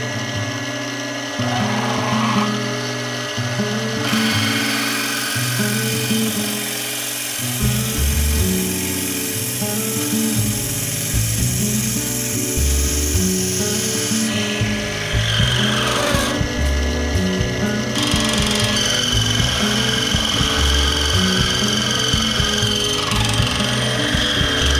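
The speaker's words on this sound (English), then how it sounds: "I just like to make a bit of a start with the drill before I put a spade bit in" A drill grinds steadily into wood nearby, a continuous rough whirring and rasping with brief pauses, no talking, starting a hole in a Tasmanian wood bowl before a spade bit is used.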